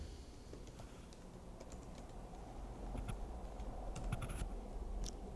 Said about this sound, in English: You type the password or you paste it.